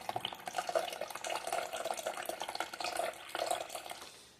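Milk trickles slowly and steadily from a jug for making yogurt, a thin continuous liquid stream with soft splashing, faint and close, with no voices.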